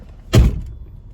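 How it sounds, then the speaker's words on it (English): The door of a Lincoln Town Car Signature Series shuts with a single solid, close thunk, followed by a brief low rumble over quiet cabin background. "If I close the door"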